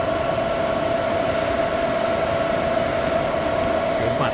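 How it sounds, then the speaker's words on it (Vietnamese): Loud cooling fan of a Luxpower SNA hybrid inverter running at default settings, a steady close whirring hum with a sharp tonal whine, constant and alone without speech. "Tiếng quạt rất là lớn."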